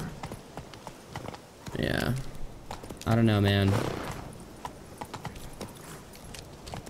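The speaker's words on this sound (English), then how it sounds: "It's like the worst terrain for a horse to ride in." Horse hooves clip-clopping over rough terrain in The Witcher 3 video game, a steady run of hoof taps under a man's brief spoken remarks.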